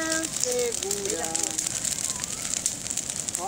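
Campfire burning outdoors in Maquiné, Brazil, a steady soft crackle of burning wood heard under a woman singing nearby.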